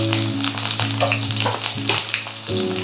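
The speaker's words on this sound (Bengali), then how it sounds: "এখন আমি বেগুনগুলোকে ভেজে নেব।" Eggplant pieces fry in hot mustard oil in a wok: a steady crackling sizzle sounds close under a strong low hum whose pitch shifts in steps, with no one speaking.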